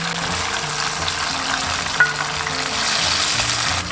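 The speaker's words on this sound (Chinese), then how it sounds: "好，加带鱼，" Hairtail fish pieces go into a pan seasoned with salt, soy sauce, a little vinegar and cooking wine, giving a steady, close frying sizzle with one brief click midway and a slightly brighter hiss near the end.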